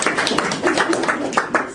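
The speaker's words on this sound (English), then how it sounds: "I think that deserves a round of applause." A summer school audience claps together, a short burst of close, busy hand clapping with distinct smacks punctuating a dense patter.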